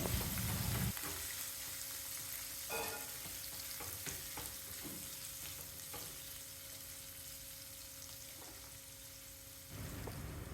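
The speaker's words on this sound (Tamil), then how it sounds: "நீளமாக வெட்டின வெங்காயம் 1 கப் அளவுக்கு, 3-4 கொத்து கருவேப்பிலை, ரெண்டையும் சேர்த்து 1 நிமிஷம் வரைக்கும் வதக்குனா போதும்" Sliced onions and curry leaves sautéing in a pan give a dense, continuous frying sizzle with occasional stirring scrapes, steady and close throughout.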